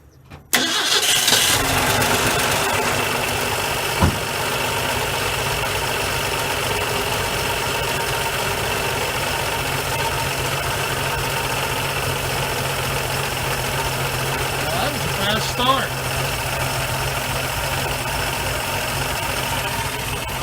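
A 1971 Ford F100 truck engine cranks and fires for its first start, then settles into a steady, rumbling idle that continues close by for about twenty seconds.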